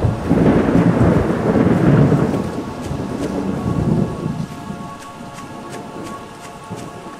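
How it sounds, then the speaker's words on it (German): Thunder from a lightning strike in the horror game Pineview Drive rumbles loud and heavy, then slowly fades, with rain pattering steadily throughout. "da hinten ist gerade ein Blitz eingeschlagen"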